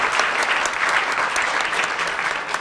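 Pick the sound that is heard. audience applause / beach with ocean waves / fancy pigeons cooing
audience applause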